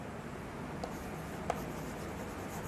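Marker or chalk writing on a classroom board during a chemistry lesson, a faint steady scratchy rubbing with a couple of small taps, heard alone without talk.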